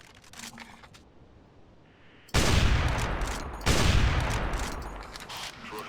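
Two loud gunshots from a double tap on a Plateosaurus in the video game Carnivores Triassic, each a sudden booming blast with a long decaying tail, the second following about a second after the first over quiet game ambience.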